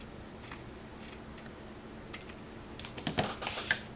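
Scissors snip fabric while a soft toy bunny is being cut out, a series of sharp, close cuts spaced irregularly and then bunching into a quicker cluster of crisp snips near the end, with no voices.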